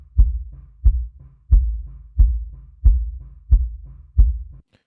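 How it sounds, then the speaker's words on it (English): Kick drum picked up by a sub kick microphone in a home studio, hitting seven times in a steady beat with deep, booming low thumps and little top end. "And then our sub kick sounds like this."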